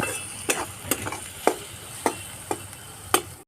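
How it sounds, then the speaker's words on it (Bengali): Onions sizzling in a pan for an egg and taro curry, a steady low fry beneath sharp, evenly spaced taps of a spatula against the pan about every half second. "পেঁয়াজটা আমরা ভালো করে ভেজে নেব"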